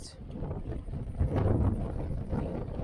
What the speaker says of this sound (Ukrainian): Великий вітер, ти що?